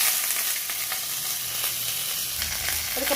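Curry leaves crackle in hot oil with mustard seeds and chillies in a kadai, a loud, continuous, close-up sizzle that holds steady throughout with no voices.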